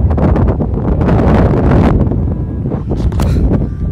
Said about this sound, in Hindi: इतनी तेज हवा चल रही है यार, हद हो गई।